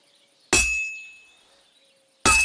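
Two sharp metallic hammer blows on hot metal at a medieval forge in Kingdom Come Deliverance II, each a loud bright clang that rings out and slowly decays before the next strike.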